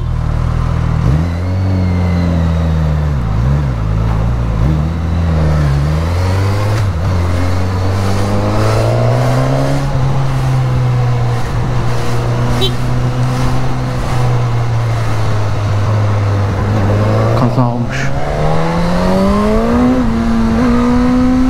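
A Nissan GT-R's loud exhaust fills the scene with a sustained close engine drone that rises and falls through repeated revs, climbing sharply near the end.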